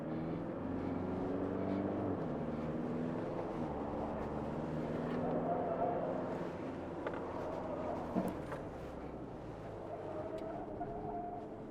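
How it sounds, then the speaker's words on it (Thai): A Toyota Hilux hybrid pickup weaves through a slalom handling test, its engine drone steady and close with shifting tones as the truck changes direction, a brief knock near the end. "เดี๋ยวเราจะมาดูที่การทดสอบในการขับขี่นะครับผมในสลาลอมเพื่อดูแฮนดิ้งของตัวรถคันนี้นะครับ"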